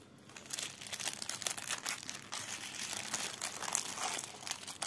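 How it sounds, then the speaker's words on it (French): Adhesive tape being peeled off a tablecloth, a close crinkling, crackling rasp in uneven bursts over several seconds, fairly quiet with no talk. "Et hop, on descotche de la nappe ou de la table."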